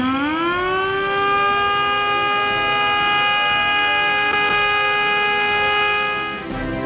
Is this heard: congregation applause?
no